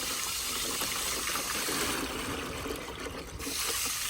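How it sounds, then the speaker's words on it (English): Water from a running tap or hose gushes steadily over worms held in a colander, a continuous close splashing rinse that shifts slightly in tone partway through, with no talking. "we're going to wash through our worms, and we're going to get all that out"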